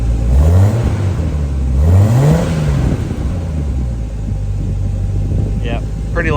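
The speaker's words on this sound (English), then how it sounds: "Let's hear some revs." Nissan R34 Skyline on its existing stock exhaust revving in two quick blips that rise and fall, fairly quiet and close, settling back to a steady idle with a short whine near the end.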